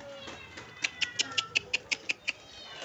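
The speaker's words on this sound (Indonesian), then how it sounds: "Kucing mana tuh?" A cat meows repeatedly at a backyard satay cookout, a run of about ten short, evenly spaced calls, close and fairly loud, over faint background noise.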